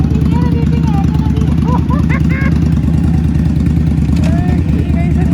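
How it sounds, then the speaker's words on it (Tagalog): A loud motorcycle engine rumbles steadily and close for several seconds, with people talking over it. "Kaninong motor ba yun? Ingay-ingay."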